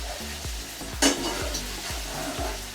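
Jollof rice with tomato paste fries in a pan, a steady close sizzle with rhythmic stirring scrapes about every half second and one sharper clatter.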